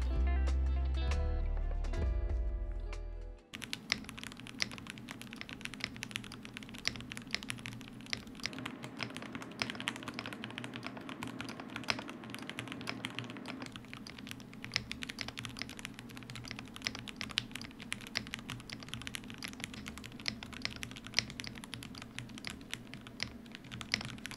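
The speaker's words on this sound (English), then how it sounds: "Coming right out of the box, here's how the keyboard sounds." Steady, rapid clacking of a low-profile mechanical keyboard being typed on, close and continuous, after a few seconds of music at the start.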